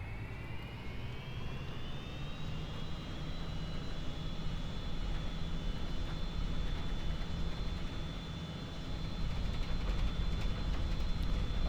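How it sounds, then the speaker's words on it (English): Aircraft engine of a freeware plane in the X-Plane 11 flight simulator, a steady droning hum with a high whining tone that rises slightly and holds, growing a bit louder near the end, no talk. "I do like the sounds in this aircraft, it sounds really good."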